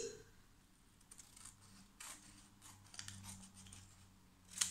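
Scissors snip through a square of fabric, cutting it in half with soft, quiet crunching strokes and one sharper click near the end, in a quiet room.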